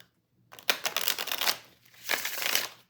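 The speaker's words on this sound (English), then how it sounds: "I am a riffle shuffler" A tarot card deck in pristine condition being riffle shuffled, two quick crisp ripples of cards fluttering together, close and clear after a brief silence.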